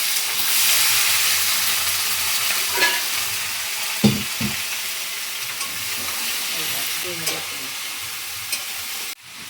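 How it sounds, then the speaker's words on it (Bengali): Young jackfruit frying in a pan, a loud steady hiss and sizzle with several stirring clatters and scrapes, close up, ending abruptly. "কচিগুলা ভাজতে হবে"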